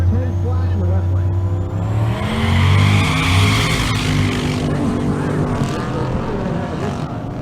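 A Camaro at a drag racing event launches down the track, a loud engine roar rising in pitch through the gears alongside other race cars, with an announcer's voice over the noise.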